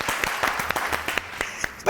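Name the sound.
audience applause on a talk show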